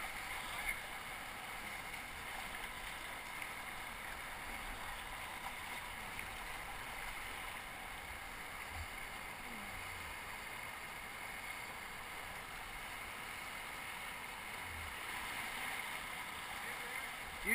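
A kayak moves on the Upper Ocoee whitewater river, with a constant low rush and gurgle of water that stays fairly quiet and even from start to finish.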